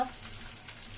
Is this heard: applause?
no